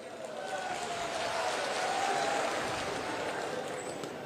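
Steady audience applause at a political gathering, a soft, even wash of many hands clapping that swells slightly and holds throughout, heard from a distance without distinct individual claps.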